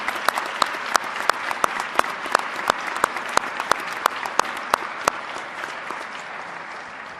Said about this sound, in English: How about a huge round of applause for these Hall of Famers with us today?